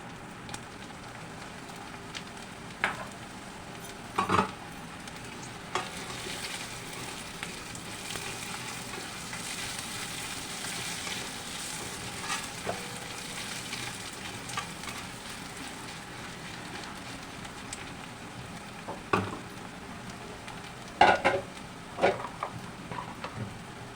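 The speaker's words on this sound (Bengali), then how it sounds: "তারপর এই তেলের মধ্যে আমি এই যে গোবিন্দভোগ চালগুলি ভেজে নেব।" Gobindobhog rice fries in oil with a continuous close crackling sizzle, punctuated by occasional louder pops and the scrape of a spatting utensil stirring the grains, no voices over it.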